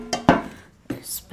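A metal cooking pot is shifted across a kitchen surface, giving two or three short clanks and scrapes close by, with a brief clink near the end.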